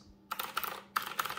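Deep, thocky keystrokes from a mechanical keyboard set on a computer keyboard tray, heard as two short close bursts of rapid typing with a brief pause between them.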